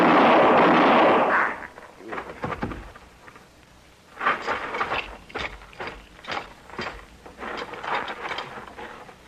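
Gunshot sound effect in an old western radio drama, a loud booming blast at the start that fades into a quieter stretch of rough rustling and knocking noises, close and without speech.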